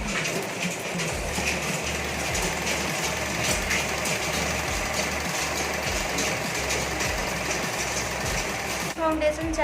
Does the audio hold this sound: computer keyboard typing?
no